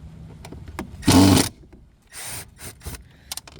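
A cordless power drill spins out screws on a Mercury steering actuator aboard a Boston Whaler boat, a short loud whirring burst followed by a softer second run and a few clicks and handling knocks.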